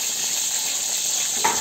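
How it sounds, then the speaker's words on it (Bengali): Eggplant slices frying in a wok over low heat in a little oil, giving a steady close hiss of sizzling throughout with a brief louder spatter near the end. "বেগুন ভাজা হচ্ছে ততক্ষণ"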